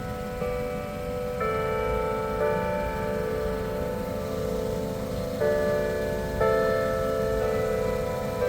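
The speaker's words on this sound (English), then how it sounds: "love church bells" Church bells chime steadily in a snowy Sierra mountain setting, their sustained overlapping tones shifting pitch every couple of seconds over a constant low rumble of wind or traffic.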